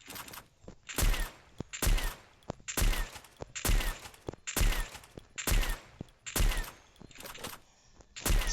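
Free Fire mobile shooter game: an AWM sniper rifle fires again and again into a gloo wall, about ten sharp, loud shots at a steady rhythm roughly every 0.8 seconds, with no talk.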